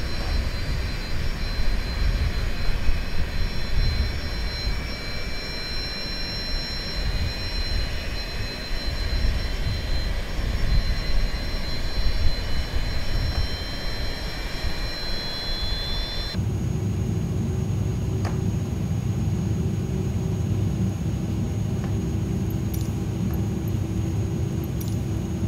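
An Airbus A310 jet engine spooling up in a flight simulator, a sustained roar with whining tones that shifts abruptly midway into a deeper, heavier rumble, continuous and fairly loud with no talk.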